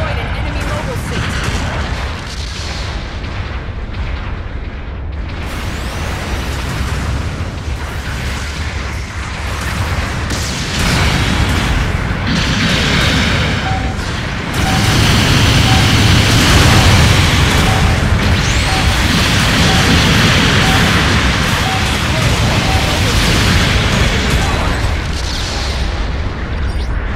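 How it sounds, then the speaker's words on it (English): Long-range artillery support fire in the mecha video game Gundam Battle Operation 2 brings a dense barrage of booming explosions and blasts. It is loud and continuous, and game voices and effects run alongside. "Long-range support fire incoming."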